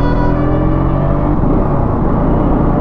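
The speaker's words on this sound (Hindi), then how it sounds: "मिलिट्री का गाड़ी सर।" Military vehicle passing on a hot highway near Gorakhpur, a loud, close, continuous engine rumble and whir with a steady droning tone throughout.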